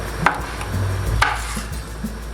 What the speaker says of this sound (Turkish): Şimdi biberlerimi doğrayacağım.